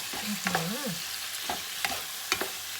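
Fresh shrimp are stir-fried with red curry paste in a pan, with a low sizzle and repeated close scraping and stirring strokes of a spatula.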